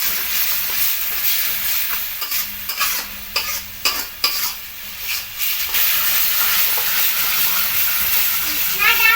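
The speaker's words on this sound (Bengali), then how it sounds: "সামান্য পরিমাণ মশলার জলটা দিয়ে দিলাম ভালো করে এবার এটাকে মিক্সিং করে নেব" Spicy mutton masala stirred in a pan after a splash of spice water, giving steady sizzling and hissing with repeated scraping and clattering strokes of the spoon, loud and close throughout.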